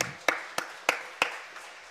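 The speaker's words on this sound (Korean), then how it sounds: "우리 하나님께 영광의 박수" A few slow, distinct hand claps ring out in a Korean church's Friday evening service, four sharp spaced strikes with a faint fifth, rather than full congregation applause.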